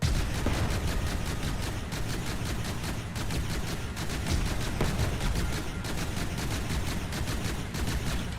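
Rapid video game gunfire aimed at a tank, a dense stream of repeated shots and blasts crackling almost continuously at high volume with no voices.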